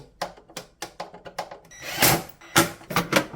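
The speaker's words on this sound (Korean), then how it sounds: "나사 4개 마지막으로 조여주시고" Screws being tightened on a Xiaomi humidifier during reassembly: a run of sharp, evenly spaced clicks and ratcheting taps, close and fairly loud, ending in denser grinding bursts, with no talking.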